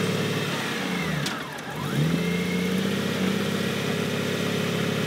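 A gray 2005 Honda Goldwing GL1800A motorcycle engine running steadily up close, with a brief dip and pitch change as it shifts gears, then a smooth rising drone, loud and with no voices.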